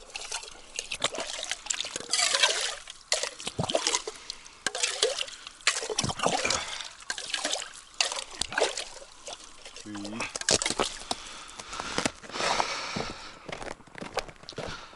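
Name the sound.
spring water pouring into a large mug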